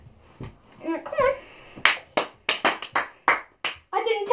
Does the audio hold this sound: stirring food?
no